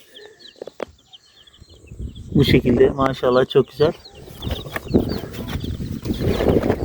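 Hens cluck and call near newly hatched chicks, with soft chirps and rustling, while a person speaks over much of the sound.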